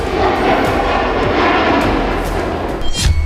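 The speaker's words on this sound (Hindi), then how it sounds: "नेटो बॉर्डर पर गश्त लगा रहे हैं रूस के न्यूक्लियर बॉम्बर" A Russian nuclear bomber flies past with a loud, steady, broadband engine roar that fills the whole clip, plus a few brief bursts near the end.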